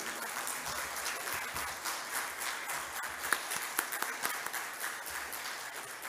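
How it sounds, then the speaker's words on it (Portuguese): Audience members at a formal honors award ceremony clap in a steady, dense round of applause that continues evenly throughout. "gostaria de uma salva de palmas a ele"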